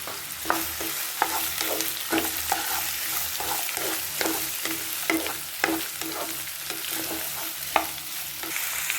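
Green chili, ginger, cinnamon, cloves and cardamom for butter paneer masala are stirred in a hot pan. A spoon scrapes in a regular rhythm of about one stroke per second over a steady close sizzle.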